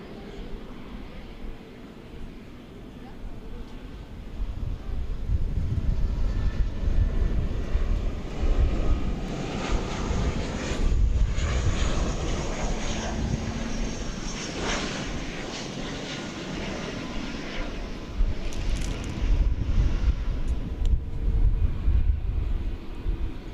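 An airliner takes off from runway 18 Left at Dallas/Fort Worth Airport. Its broad engine roar holds steady and loud for a sustained stretch, heard from a distance outdoors.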